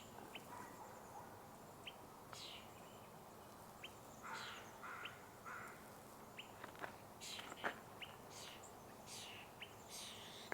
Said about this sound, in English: a couple starlings, European starlings